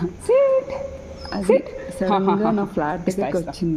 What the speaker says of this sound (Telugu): అది మా కమ్యూనిటీ డాగ్.